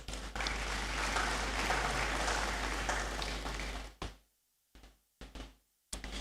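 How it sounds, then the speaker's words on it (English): Audience applause after a performance by the Ghana Dance Ensemble at a university congregation ceremony in a great hall: dense clapping with a low hum underneath, which stops abruptly partway through and is followed by a few short bursts. "Please, let's thank them with a round of applause."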